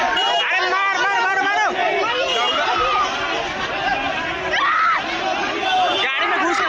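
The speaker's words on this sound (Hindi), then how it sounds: "इधर भीड़ से मारो मारो की आवाज गूंज रही है" An angry crowd at a police arrest in Bihar shouts "maaro maaro" (beat him). Many overlapping voices yell and chatter loudly and close by for the whole stretch, with sharper individual shouts rising out of the din.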